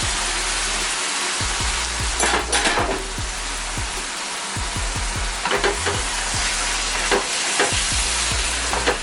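Pasta being stirred with jarred sauce in a pan: a steady loud sizzle beneath repeated scraping and knocking of a spoon against the pan, close up, with no talking.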